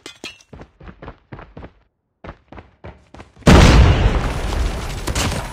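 A grenade goes off in a first-person shooter video game, a sudden loud, dense blast that rolls into a long rumbling, debris-filled roar after several short clipped voice lines and a brief pause.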